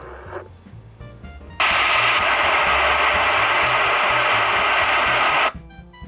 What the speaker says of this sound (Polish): Tak szumi niemiłosiernie Danita.